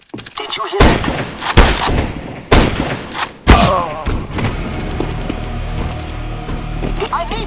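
Sniper rifle shots ring out in the video game CS:GO, several sharp loud cracks with booming tails spaced a second or so apart, followed by lingering game ambience.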